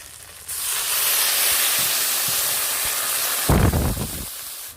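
Water is poured into a pan of pabda fish frying in mustard paste, village style: a steady loud sizzle with faint stirring taps, then a sudden louder hissing burst as the water hits the hot oil.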